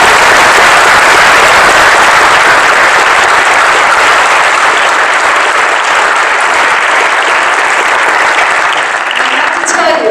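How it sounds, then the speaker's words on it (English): Audience at a community long-term recovery kickoff meeting applauds steadily, a dense, loud round of clapping that holds for about nine seconds before tapering off at the end. "if you would please give these folks a round of applause"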